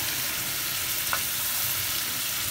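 Chicken and potato curry with ground red chili cooks in a pan, giving a steady, soft frying hiss with faint stirring underneath and no talk.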